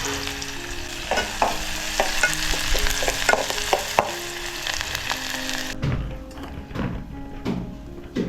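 Oysters fry and are stirred in a pan on a wood-fired stove, a loud steady sizzle punctuated by scraping spoon knocks, with the sizzle dropping away sharply near the end.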